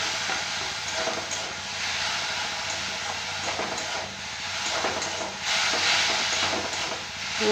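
Snails fry in a pan with a continuous, close hiss that swells and fades slightly, with no talking.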